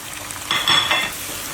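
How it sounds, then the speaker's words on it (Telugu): Cashew and almond paste for chicken korma hits a hot pan and is stirred, a short burst of loud, close sizzling and spatter that swells quickly and then settles to a softer fry. "కాజు బాదం పేస్ట్ వేసేయండి. ఇది చక్కగా ఫ్రై అవుతూ ఉంటుంది కదా"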